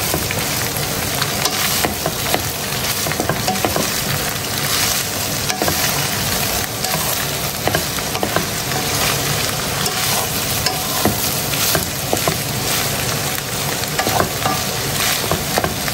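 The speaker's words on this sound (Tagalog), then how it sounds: "lulutuin lang natin yung hotdog ng siguro mga 2 minutes lang before natin ilagay yung sauce" Beef frank hot dogs sizzle and crackle loudly in a frying pan, with a spatula scraping and stirring them continuously at close range.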